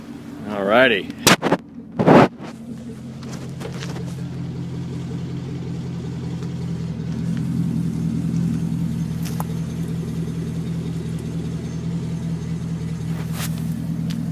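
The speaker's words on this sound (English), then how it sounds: "Sounds pretty good, especially when you get on it." A 2011 Chevrolet Camaro SS exhaust barks through a few loud, sharp revs close by, then drops back to a steady, deep idle rumble.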